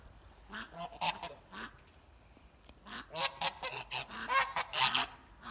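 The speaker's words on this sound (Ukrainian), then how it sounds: "А, гуси нагнали." Kholmogory geese honk repeatedly in loud, overlapping bursts, a noisy flock calling close by with short pauses between volleys.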